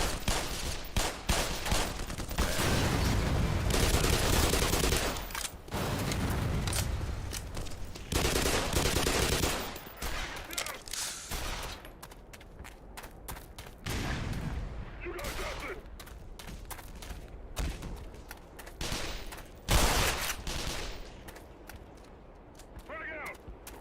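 Rapid video game gunfire from a player's weapon, loud bursts of shots that start and stop repeatedly, mixed with game sounds and occasional talk.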